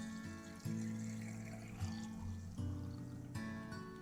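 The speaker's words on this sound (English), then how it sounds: "fill this up with water" Water pours into a glass snow globe during a repair, a faint liquid trickle with gentle splashes and small bursts of filling, close and quiet.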